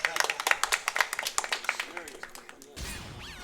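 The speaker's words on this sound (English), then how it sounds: "Clapping for my misfortune." Audience clapping at a speedrun event for Tony Hawk's American Wasteland, a quick run of sharp individual claps that thins out over a few seconds, with talk mixed in and game sounds near the end.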